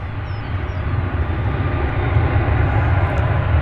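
A fixed-wing airplane passes over DFW Airport with a steady, loud engine roar that holds through the whole stretch, heavy low rumble and broad noise, with no talking.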